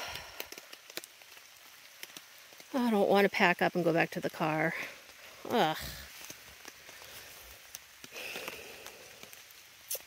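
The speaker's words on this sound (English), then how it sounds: "so the rain's picking up again" Rain pattering steadily on a tent at a lakeside backpacking campsite, a soft continuous patter heard close by, with someone talking over it in the middle.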